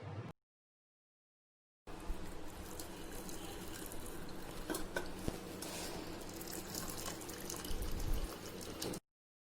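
Prawns cooked in their own released liquid are drained off the stove, a steady splashing pour of water running continuously for several seconds, close and fairly loud, with no talking.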